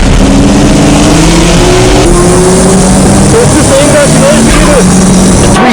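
Tuned 600-horsepower-plus Nissan GTRs and Sylvias racing on a circuit, engines revving and shifting loudly with rising pitches, under constant commentator-style talk.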